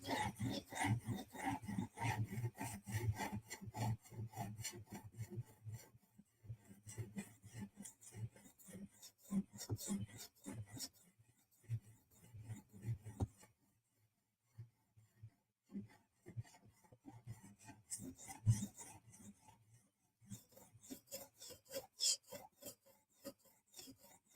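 A Benchmade 940 knife blade is stroked against a stone on a TSProf Kadet sharpener, giving quiet, rhythmic scraping passes in bursts with short pauses between them, close and soft.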